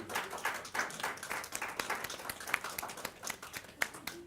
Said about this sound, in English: Let's give Tex a round of applause.